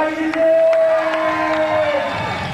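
Crowd at a skateboarding competition in Stockholm cheers and whoops loudly and steadily throughout, with a sustained whistle-like tone riding over the roar.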